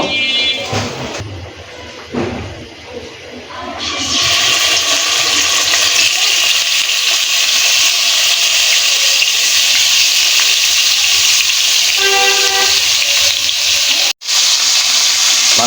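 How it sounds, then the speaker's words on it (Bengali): Bata fish frying in hot oil, a loud steady sizzle and hiss that swells after a few seconds of quieter clatter and carries on almost unbroken, with a brief cut near the end. "মাছটা এখন আমরা ভেজে নিব"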